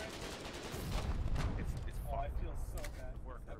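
Gunfire in the war game Foxhole, a dense stretch of shots and booming blasts running without pause, with voices talking faintly underneath.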